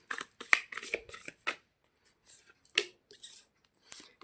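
Oracle and tarot cards being shuffled by hand in a quiet room, with a string of brisk riffling bursts and soft pauses between them, close and moderately loud, with no voices.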